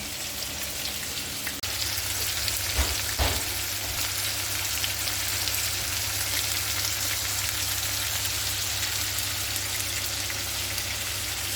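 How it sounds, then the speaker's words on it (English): Prawns sizzle and crackle in hot oil, a dense, steady frying hiss with a couple of brief knocks early on, no talking. "this is the first batch of prawns we are frying"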